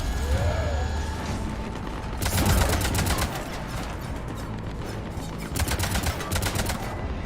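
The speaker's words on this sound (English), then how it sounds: "Cannons engaged." Cannon fire in the video game Mass Effect 3: two loud rapid bursts of heavy automatic firing, the first brief and the second longer, over a steady mechanical background hum with faint electronic tones.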